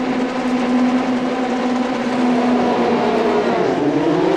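Formula Renault Eurocup race cars pull away at the start of a race at Paul Ricard, a loud, sustained drone of many engines revving together, rising in pitch toward the end.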